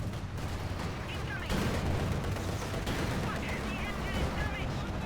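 Howitzer artillery fires in a Company of Heroes 2 match between Soviet and OKW forces, dense booming and gunfire rumble that keeps going the whole time, with a heavier surge midway and voices talking underneath.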